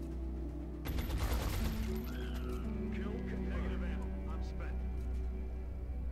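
A short, loud volley of enemy gunfire in XCOM Enemy Within rattles for about a second, followed by quieter game tones and effects.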